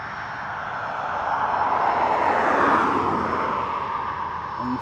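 A TUI airliner on approach to land at Newcastle Airport gives a steady, broad jet roar that swells to a peak midway and then eases slightly, with no voices over it.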